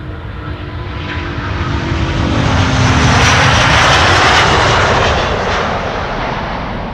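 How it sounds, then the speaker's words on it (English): A Boeing C-17 military transport aircraft crosses overhead from west to east near Amsterdam Schiphol, a loud building engine roar that peaks mid-pass with a low droning hum, then eases off. "So a C-17 west to east."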